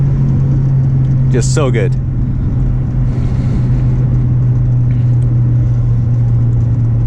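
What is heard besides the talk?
2004 Honda Civic Si engine accelerating in first gear with VTEC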